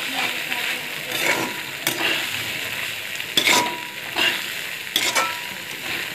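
Flattened rice (chira) tipped into a pan with peanuts and stirred while frying for chirer pulao: a soft, steady sizzle broken by several sharp scraping strokes of the spatula at uneven intervals, close by.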